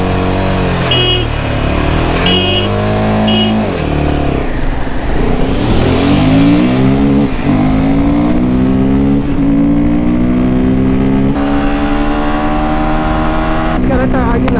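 Royal Enfield Himalayan motorcycle accelerating hard in a drag race, its engine rising in pitch through several gear changes, loud and close, with a few brief sharp clicks early on.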